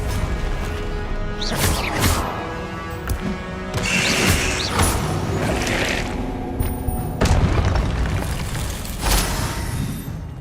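Confringo fire spell blasts in the Hogwarts Legacy video game, several booming impacts with crashing debris spread across the clip, loud and close amid ongoing game ambience.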